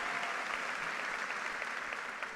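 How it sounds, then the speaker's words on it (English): A large crowd claps at the Wilson High School class of 2019 commencement ceremony, a dense, continuous wash of applause heard from within the audience, steady and moderately loud for a couple of seconds. "Yeah, you can clap for that."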